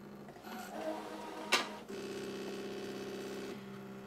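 A ScanNCut cutting machine auto-senses fabric depth with a steady mechanical motor whir, broken by a brief sharp click, then a constant humming drone for about two seconds before settling back.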